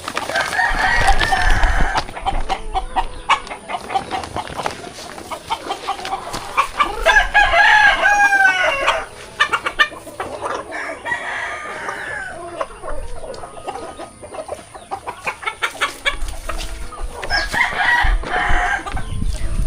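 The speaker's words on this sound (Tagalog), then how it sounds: "pasilip ko sa inyo yung gaano kadami yung manok namin ni Tatay Riot dito." Chickens cluck busily nearby while being fed and a rooster crows loudly a few times, the flock noisy and close throughout.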